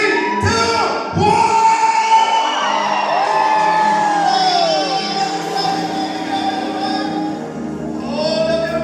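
A crowd of wedding guests lets out a loud, sustained shout on a countdown, voices whooping and yelling together in one long roar that holds steady before easing slightly.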